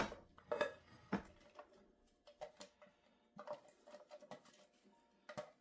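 Chopped onions are tipped into a bowl in a home kitchen, producing a handful of soft clinks and scrapes against the bowl spaced irregularly, close by and fairly quiet, with no voices.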